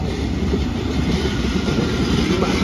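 A train rumbles steadily past on nearby railway tracks in Taiwan, with a continuous loud roar and faint rhythmic wheel clatter and no pause.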